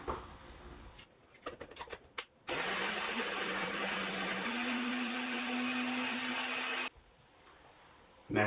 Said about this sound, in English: Pat your lid on and blend it up